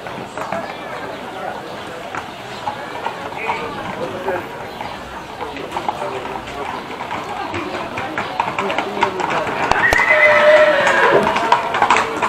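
Horses whinny and shift their hooves at a horse beauty contest during a village feast on Lesvos, with a loudspeaker announcer and crowd chatter over them throughout.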